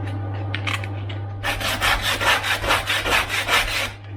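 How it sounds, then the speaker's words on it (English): Coarse grade 40 Klingspor sandpaper rubbed by hand along the grain of timber, a run of about ten quick, rasping strokes in steady rhythm, close and loud after a couple of light scrapes. "I'm using these as just hand sanding belts. It's actually a very high quality sanding paper made in Germany, Klingspor, grade 40."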